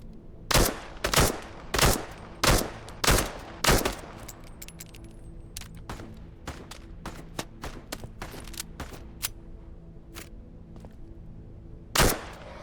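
Gunfire from mimic enemies in the video game The Radius 2: six loud, evenly spaced shots in quick succession, then a scatter of fainter distant pops and a final loud shot, with no speech.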